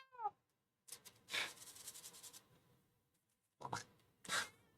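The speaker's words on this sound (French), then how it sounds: "Donc vous allez participer à la sérénade du petit chat." A small cat meows in a few short, close calls separated by brief pauses, heard alone without talk.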